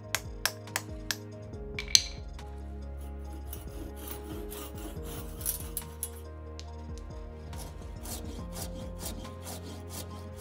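A saw cuts back the excess wooden handle of a cast solid brass sledge hammer, a steady rasping stroke-by-stroke sawing with a few sharp knocks at the start, close and fairly quiet with no talk.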